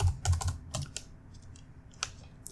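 Short burst of typing on a computer keyboard while entering a word in all caps in Adobe Illustrator, close clicky keystrokes in quick clusters, then a few scattered taps.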